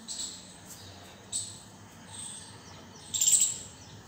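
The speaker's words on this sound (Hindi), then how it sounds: "आवाज आ रही चिड़ियों की" Small birds chirp outdoors after rain in India, giving short, high, thin calls in scattered bursts at a moderate distance over quiet background ambience.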